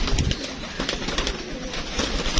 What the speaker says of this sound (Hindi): ये बाकी जी हमारे कबूतर है